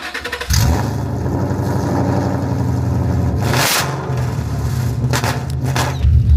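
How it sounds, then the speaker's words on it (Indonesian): A loud Ford Mustang GT (420 hp) exhaust rumbles at idle and then revs, with a low throaty drone and a couple of sharp throttle blips, close by. "Kenapa pria suka knalpot berisik?"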